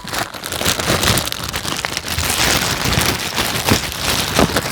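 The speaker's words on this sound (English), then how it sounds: "I wanna open it up, so I'm actually gonna put the plastic up to the mic" Plastic packaging from a Hot Toys Superman figure crinkles and crackles right against the microphone, a loud, dense, continuous rustle with no talking.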